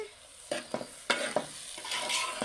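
Gongura leaves cooking in a pan with a little oil are stirred with a utensil, giving irregular scraping strokes and soft clacks over a faint sizzle, close and clear.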